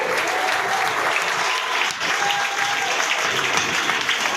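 A crowd claps for a train at a ceremony flagging off extra MEMU train runs from Guna, with dense, steady applause throughout and a brief dip in the middle.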